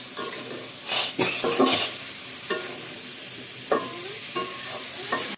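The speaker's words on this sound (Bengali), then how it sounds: "তেল মশলা ভালোভাবে কষানো হচ্ছে" Spice masala sizzles in hot oil in a home kitchen while being worked for a koi fish curry, steady frying hiss broken by repeated scrapes and knocks of a spoon against the pan.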